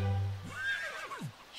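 A horse whinnies in The Sims 3, a newborn red foal with half-black coloring, its rising and falling neigh carried over a low steady hum, loud and close with no talking.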